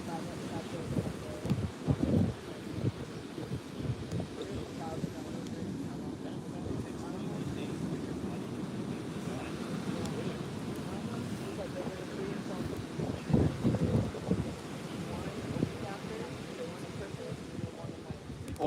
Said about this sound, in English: Ormond Beach is where we are at.